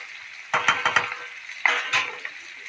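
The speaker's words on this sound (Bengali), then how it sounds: "আলুটা লাল লাল করে ভাজা হয়েছে" Potatoes frying red in a pan for aloo dum, with two short bursts of stirring and scraping sizzle close by, separated by a quieter pause.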